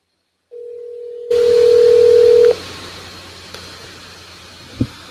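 A telephone dial tone sounds while a caller is being reconnected, a steady tone that gets louder and then cuts off abruptly, followed by faint line hiss and a small click.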